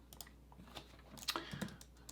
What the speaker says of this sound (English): I'm gonna just type this here.